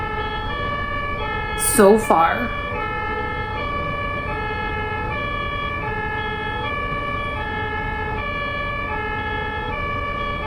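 A two-tone ambulance siren wails steadily on a German highway, alternating high and low notes in a regular rhythm, with a brief burst of talking near the start.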